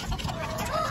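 White Leghorn hens cluck in a short, close burst at a farm, a few throaty clucks set over steady background noise.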